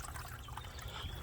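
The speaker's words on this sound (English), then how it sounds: "So that's a lot of K1 biological media that the water's flowing through" Water trickling through K1 biological media in a koi pond filter, a soft continuous splashing and gurgling flow, faint and steady with no voices.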